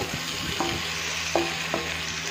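Chunks of raw banana and potato fry in a pan with a steady, even sizzle, broken by a few soft scrapes and knocks as they are stirred.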